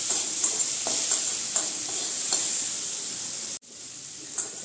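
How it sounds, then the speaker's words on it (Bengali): Soya beans are stirred into frying spices in a pan over a steady sizzle. Rhythmic spatula scrapes repeat every half second or so, and there is a brief sharp dropout near the end. "এখন এই মশলার সঙ্গে আমি সোয়াবিনগুলো ভালো করে মিশিয়ে নেব।"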